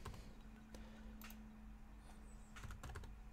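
Keystrokes on a computer keyboard while a name is entered at a server console, heard as short, faint bursts of clicks over a low steady hum.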